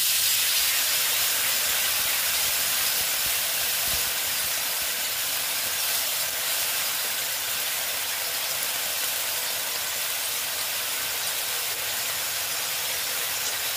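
Water poured into a hot pan while cooking bitter gourd (uchhe) sets off a loud, steady steam hiss that stays broad and constant throughout, with no speech.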